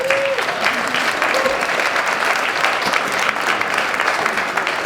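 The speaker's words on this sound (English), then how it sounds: "We're going to applause for them." Sustained applause from a seated audience at a civic fellowship mid-year update, steady dense clapping filling the whole stretch at an even level.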